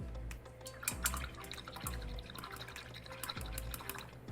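A paintbrush swished and rinsed in a water cup during an acrylic sunflower painting session, giving repeated close watery sloshes and drips in short bursts, with no talk.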